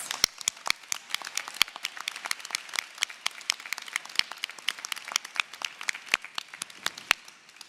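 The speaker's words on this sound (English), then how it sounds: "I would like an even bigger round of applause for our Master of Science graduates" An audience at a university commencement ceremony applauds Master of Science graduates, with sharp individual claps over a continuous bed of clapping that stays fairly quiet and even throughout.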